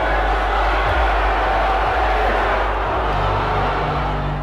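A packed arena crowd of fans at a Jake Paul event in London roars continuously, a dense, loud wall of cheering and shouting that holds steady without a break.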